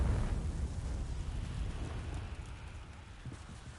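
A Confringo explosive spell in Hogwarts Legacy bursts into a broad rumbling roar that slowly fades over several seconds, like a muffled blast settling into crackling debris.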